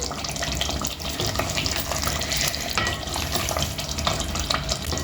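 Steady bubbling and sizzling of a thick stuffed-eggplant curry cooking in a pan, with occasional stirring scrapes, continuous and close.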